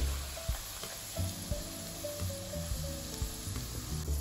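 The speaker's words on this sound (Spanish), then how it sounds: "Continuamos a dorar los chiles, otra vez otra media taza de aceite." Dried chiles fry in oil for salsa macha, a continuous crackling sizzle with soft periodic stirring knocks, close and steady with no talking.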